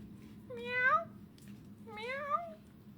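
A person mimics an angry cat with two drawn-out, rising-and-falling meows about a second apart, close and fairly loud over a quiet room hum.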